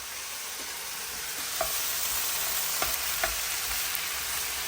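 Chicken frying in a pan gives a steady broadband sizzle with a few soft stirring clinks and scrapes scattered through, close and moderately loud, with no voices.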